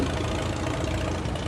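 A 1953 John Deere 50 tractor idles close by with a steady, rough, chugging engine note and a knocking pulse, unbroken over the short stretch.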